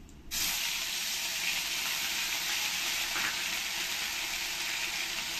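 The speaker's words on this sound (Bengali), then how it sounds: "দুটো তেজপাতা দিয়ে ভালো করে একে 2-1 মিনিট নাড়িয়ে নিতে হবে" Whole spices and bay leaves fry in hot oil in a pan, a loud, steady hiss that begins abruptly and carries on unbroken, with a faint stir partway through.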